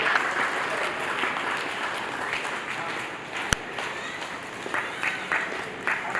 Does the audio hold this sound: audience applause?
yes